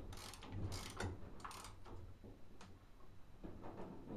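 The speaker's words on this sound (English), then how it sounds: "you're gonna grab your ratchet arm again. And you're gonna tighten it up." Ratchet wrench clicking as a GoPed GSR Sport scooter's chain tension is tightened, a close series of quick mechanical clicks in uneven bursts with no talking.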